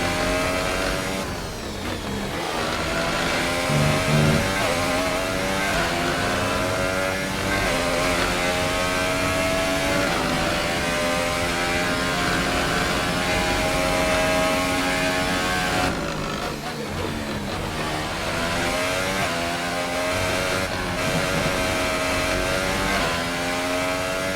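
A Formula 1 car's engine screams in the F1 2018 racing game at Monza, with high revs rising and falling through rapid gear shifts, sustained and loud close up, and a brief pause mid-stretch before it climbs again.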